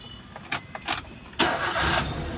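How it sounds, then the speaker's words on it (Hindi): A car with an over-revving fault cranks and fires up after a few short clicks, settling into a loud, steady, high engine roar. "लेकिन गाड़ी ओवर रेस हो रही है देख सकते हो आप"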